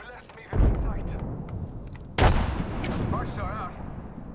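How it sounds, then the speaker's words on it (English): Grenade explosions in the video game Apex Legends, a thermite and a frag: two loud broadband blasts, the second sharper and heavier, over continuous gunfire and game noise, with a voice talking in between. "Throwing thermite grenade. In combat. Frag out. Frag out."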